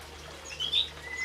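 Magpie robins in a breeding aviary give a couple of short, bright chirps close together midway through, over a faint steady background hum.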